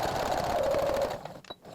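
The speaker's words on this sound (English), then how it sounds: "stitch to the end." A sewing machine stitching a fabric face mask, a steady close motor whir with rapid needle ticking that stops after about a second, followed by a brief click.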